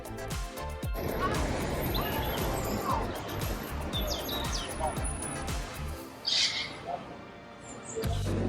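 Bird calls in an outdoor spot with peacocks, roosters and pigeons among trees, including a few sharp cries and chirps over a continuous low rumble of background noise, with distant voices mixed in.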